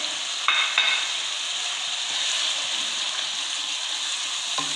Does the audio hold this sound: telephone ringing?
no